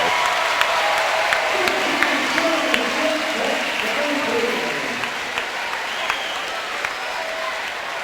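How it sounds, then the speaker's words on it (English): A volleyball crowd at the U.S. women versus Japan match gives a standing ovation, sustained loud clapping and cheering that fades a little toward the end, with a commentator's voice faintly underneath. "Standing ovation from this crowd, absolutely deservedly so."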